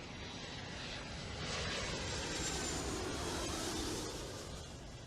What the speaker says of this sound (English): The background sound is of the aeroplanes.